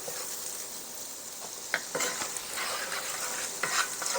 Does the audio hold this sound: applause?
no